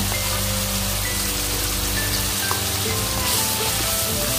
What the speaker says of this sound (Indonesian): Kemudian kita goreng cumi sebentar saja.